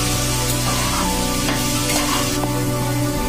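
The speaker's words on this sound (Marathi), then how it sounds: "मसाले टाकून झाल्यानंतर आपण सुरुवातीला केलेली अंड्याची भुर्जी ही आता टाकायची व त्याला छान मसाला लागेल" Egg bhurji tossed with spices in a hot pan for egg fried rice, a steady close sizzle with scraping stir strokes and no talk over it.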